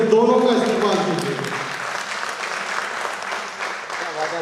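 Loud applause fills a poetry mushaira hall in Australia, a dense continuous clapping from the audience that holds steady throughout, with a voice briefly audible at the start.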